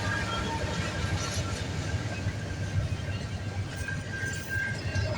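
A CN Q122 freight train rolls past steadily on a rainy day at Stewarttown, milepost 26.63, with a continuous loud rumble of wheels and railcars filling the whole stretch, no talking heard.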